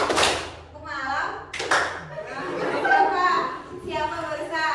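A class of seventh-grade students claps in rhythm during a clap game in a mathematics lesson, with short bursts of clapping between chanted spoken lines from a teacher and pupils.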